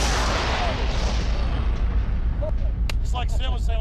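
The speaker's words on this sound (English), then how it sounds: "it's a Tannerite charge. It should give us pretty good boom." A Tannerite charge explodes after two rifle shots are fired at it at the same moment, producing a loud, roaring blast that rumbles on and slowly fades, with voices talking near the end.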